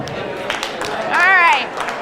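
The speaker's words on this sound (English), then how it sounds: "If you can hear me, clap." An audience at a gathering at the Orange Tree Resort claps briefly, with a few scattered claps followed by a short crowd burst as people answer a prompt, and voices mix in around them.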